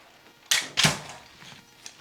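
Two sharp, loud snaps half a second apart from the spring-loaded brace of a Flux Raider being flicked out, close by with no talk, followed by faint clicking handling.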